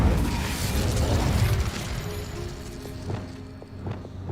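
In the video game Hogwarts Legacy, an Incendio fire spell bursts with a loud whooshing rush that fades into a low crackling rumble, followed by a few faint mechanical clicks.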